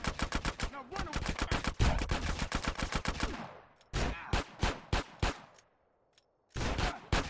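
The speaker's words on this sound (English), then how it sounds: "She's shooting me, man." Rapid automatic gunfire in GTA San Andreas Definitive Edition, loud close bursts of dense shots rattling in quick succession, pausing briefly, resuming in shorter volleys, then a silent gap before a final burst.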